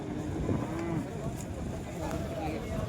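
Cows low among a busy livestock crowd at a cattle market, with several moos rising over a constant rumble of people and animals.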